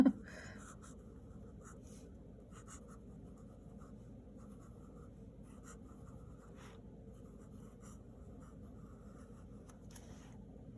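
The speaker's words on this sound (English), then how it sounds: "just going to outline that wiggly squiggly line that I drew" Steady scratchy scraping of a pen or pencil drawing across paper, continuous and close, with small pauses in the strokes.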